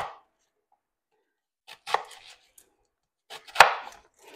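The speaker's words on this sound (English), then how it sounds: "chopping veggies is boring" A few sharp knife chops on a cutting board, in two short bursts separated by quiet, close and crisp.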